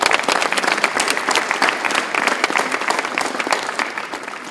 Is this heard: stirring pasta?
no